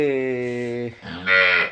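Cattle on a farm moo loudly and close by, one long sustained low call followed by a second rising, higher-pitched bellow.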